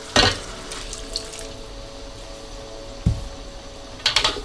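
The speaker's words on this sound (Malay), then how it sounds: "So kita masukkan sedikit air." A small splash of water goes into a pan of frying kway teow, the flat rice noodles, with brief pouring and sizzling bursts and quieter cooking noise between them.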